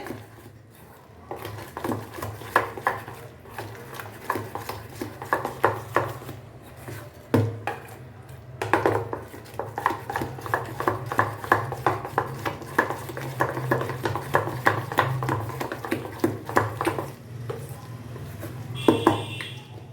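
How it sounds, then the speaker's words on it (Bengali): Ground moong dal batter being beaten by hand in a bowl, giving a steady run of soft slapping, scraping strokes with a rhythmic swirl, close and moderately loud, with occasional louder knocks against the bowl. "এইভাবে ঘুরিয়ে ঘুরিয়ে ভালো করে ফেটিয়ে নিতে হবে।"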